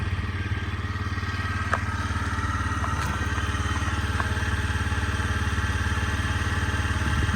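A Honda Dio AF-62 carburetted scooter engine idles steadily with a low, even chugging and a few faint clicks and rattles, no voices.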